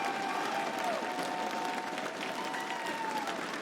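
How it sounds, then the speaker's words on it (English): An arena audience applauds at a Rainbow Six Siege esports grand final in Charlotte, a continuous wash of clapping and crowd noise heard from a distance, steady and moderately loud. "give them all a round of applause"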